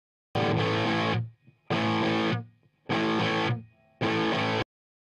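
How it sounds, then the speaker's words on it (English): A simple distorted electric guitar riff played in four separate bursts, each ringing about a second before cutting off, loud and close with no talking. "this is just a very simple little guitar riff"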